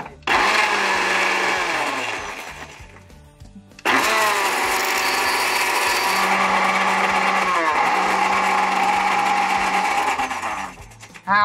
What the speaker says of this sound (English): We're gonna blend it up, and then if we need more, I'm just gonna kind of blitz it in as the machine is going.